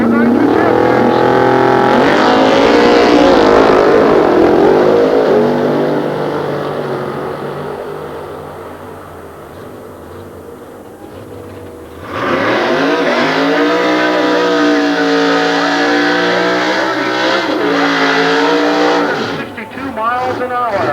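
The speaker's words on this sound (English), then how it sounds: "you're going to see two of the fastest Chevrolet Camaros in the country, and you don't believe me, watch what happens when they go off the starting line" Two Chevrolet Camaro drag cars at a 1993 Goodguys nostalgia drag meet at Sears Point roar loudly off the line, engines howling and fading into the distance before a second loud surge of revving engine noise, with no nitrous.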